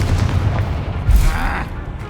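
The Confringo fire-blast spell going off in Hogwarts Legacy, a close, loud booming blast with heavy low rumble and crackle, lasting about two seconds.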